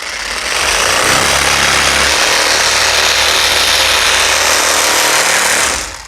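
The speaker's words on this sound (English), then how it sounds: "So now I'm in free rotation mode and I'm sanding." A power sander whirs loudly and steadily up close, a harsh continuous grinding drone that starts abruptly and cuts off near the end.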